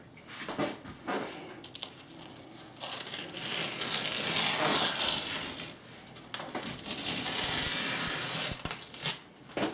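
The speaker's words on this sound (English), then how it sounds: "let's pull off our tape and we'll see how big of a mess we got going on here" Painter's tape stripped off freshly painted moldings, close crackling, tearing peels in several long pulls with brief pauses and crinkling between them.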